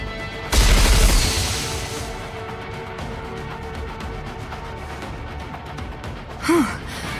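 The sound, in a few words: missiles firing and exploding in the video game Goddess of Victory: Nikke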